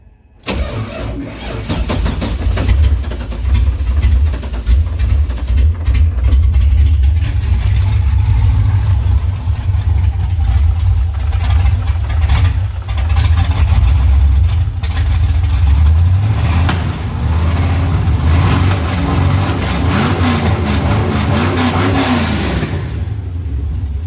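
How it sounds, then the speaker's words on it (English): An Acura NSX twin turbo, started dry after sitting for a couple of months, cranks and fires up, revs, then settles into a rough, loud idle near the microphone for over twenty seconds, without talk. "So this is a dry fire up after being sitting for about a couple months."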